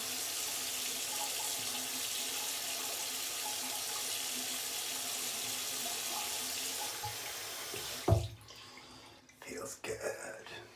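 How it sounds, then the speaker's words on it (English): Water running from a sink tap in a steady broadband rush for about eight seconds, then cutting off, followed by a few brief splashes as water is patted onto the face, close and fairly loud, with no talking. "I'm going to put a little bit of water on the face."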